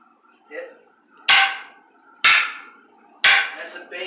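Zulu fighting sticks crack against each other three times in a basic horizontal striking drill, sharp loud wooden impacts about a second apart with a faint voice early on.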